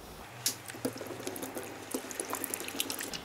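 Tap water runs into a sink while a makeup brush is rinsed, a close, steady splash broken by sharp drips and spatters as the brush moves through the stream.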